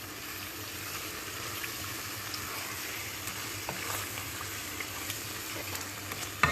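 Curry simmering in a pot being stirred, with a steady soft sizzle and bubbling that holds evenly throughout, plus a few faint scrapes near the end.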